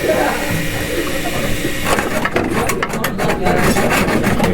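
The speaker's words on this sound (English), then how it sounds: "I made a hole with the drill press" A motor hum, then a drill press biting into wood from about two seconds in, producing a loud grinding, rasping whir that continues steadily.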